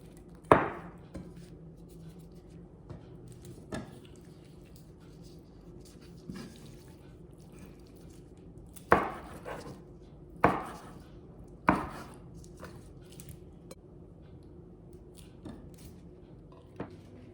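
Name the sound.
knife chopping shrimp into small pieces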